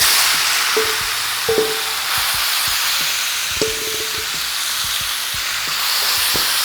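Pork ribs fry in a pan of hot, smoking oil over high heat while cooking pork adobo. A steady, close sizzle and hiss runs throughout, broken by a few sharp clinks and stirring knocks, with no talking.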